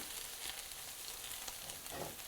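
Steaks sizzle and fry in a pan, a steady, dense crackle and hiss that holds at an even level throughout, close up with no voices.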